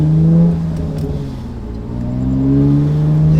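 A Honda Accord V6 with an aggressive aftermarket exhaust pulls away slowly, its loud, close engine note rising in a smooth drone, easing off briefly, then climbing again, with no voices.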